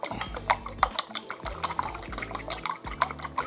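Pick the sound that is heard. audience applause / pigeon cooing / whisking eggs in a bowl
whisking eggs in a bowl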